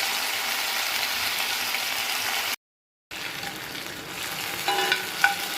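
Masala-coated fish fries in a pan with a loud, steady sizzle. It drops to brief silence partway through, then resumes with a slightly different texture and a few clinks and pops toward the end.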